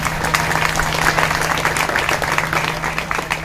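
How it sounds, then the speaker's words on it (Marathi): An audience at a kirtan claps loudly and steadily in dense applause throughout, with a faint low hum underneath. "एकदा परत एकदा जोरात टाळी वाजवा सर्वांनी"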